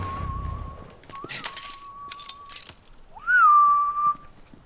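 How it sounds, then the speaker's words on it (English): A character whistles in the video game Borderlands 3, sustained tonal notes with a rising swoop and held pitch, accompanied by brief clinking and glassy game effects in the background. "What's with your fucking whistling?"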